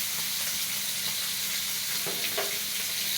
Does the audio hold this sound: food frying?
yes